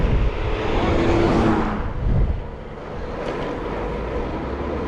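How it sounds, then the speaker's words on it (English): Strong wind roaring past while cycling on a gravel bike ride, a loud buffeting rush that swells and eases, then settles into a steady lower blustery noise, no talk. "Oh, that wind!"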